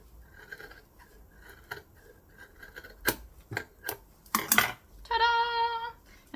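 Scissors cut through an oven mitt pattern, with sharp separate snips and crunches, a few louder close cuts, then a short ringing metallic rattle at the end.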